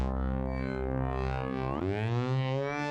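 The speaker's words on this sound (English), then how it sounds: "So let's see what suspense bass sounds like, all right?" A suspense bass synth patch in GarageBand for iPad plays a sustained, buzzy tone rich in harmonics, then slides upward in pitch partway through and holds the higher note. It is heard alone and fairly quiet.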